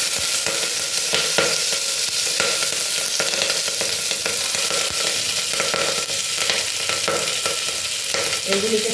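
Radish, cauliflower stems, beans and other winter vegetables sizzle loudly in a pan for mung dal, a steady dense frying hiss with occasional stirring scrapes, close and continuous throughout.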